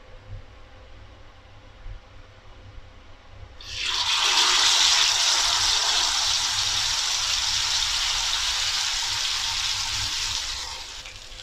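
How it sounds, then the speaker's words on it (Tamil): Marinated fish is laid into hot oil on a dosa tawa and fries with a loud, steady hiss and sizzle that starts suddenly after quiet room tone and carries on, easing slightly near the end, with no talking. "இப்போ வந்து நம்ம இதை ஃப்ரை பண்ணி எடுத்துக்கலாம்."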